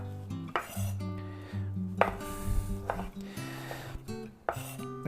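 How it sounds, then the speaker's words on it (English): A knife chops dried apricot and peach on a board for capirotada, with a series of crisp close thuds in an uneven rhythm amid soft clinks and scrapes, and no voices. "we're going to be cutting up some of the dried fruit"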